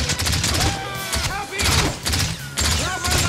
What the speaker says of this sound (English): Who is that shooting at me?